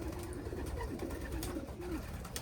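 Racing pigeons cooing in a loft, soft repeated low coos over a steady background hum, faint and continuous.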